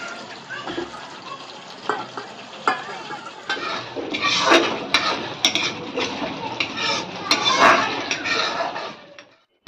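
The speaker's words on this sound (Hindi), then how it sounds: "मसाले को अच्छे से पका लेते हैं" Spices cook in a pan as they are stirred, with wet sizzling and watery splashes swelling and fading alongside scraping and clinks of a utensil against the pan, close and moderately loud.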